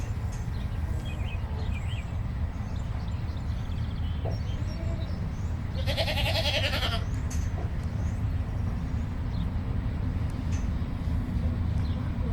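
Goats bleat on a small farm, one loud, wavering bleat standing out near the middle against steady outdoor background noise, with a few fainter calls scattered around it.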